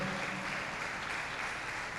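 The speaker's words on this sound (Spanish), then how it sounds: "Dele un aplauso al Señor Jesús" Congregation applauding at a church service, a steady broadband wash of clapping hands that fills the whole stretch at moderate level with no pauses.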